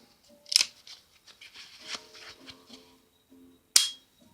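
Two sharp, crisp clicks of an SRC airsoft pistol on the 2011 frame, one near the start and another about three seconds later, with faint handling noise between them.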